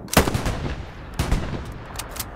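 Gunfire in the video game Hell Let Loose: two loud, close bursts of shots about a second apart, followed by fainter, more distant reports.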